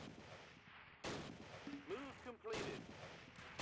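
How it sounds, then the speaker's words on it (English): Artillery from a naval barrage pounds in the Close Combat World War II strategy game at Sword Beach, with heavy booming blasts and rumbling bursts while a voice speaks briefly over them. "You know, we'll just naval barrage it."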